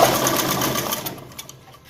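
A sewing machine stitches the pocket of a cigarette pant, a rapid, even run of close mechanical clatter that slows and fades toward the end, with no talk.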